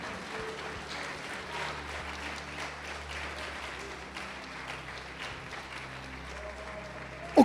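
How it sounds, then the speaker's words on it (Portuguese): A church congregation applauding at a Brazilian evangelical service, giving moderate, steady clapping that runs under a faint background hum and carries on without a break. "Pode aplaudi-lo e glorificá-lo."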